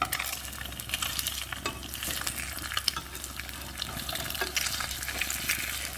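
An egg frying in a pan, a soft continuous sizzle with faint crackles and light scraping, fairly close and steady, with no voices.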